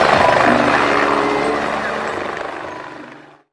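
A toy helicopter gives a loud, whirring electronic rotor sound that fades steadily over about three seconds before cutting off, with no talking.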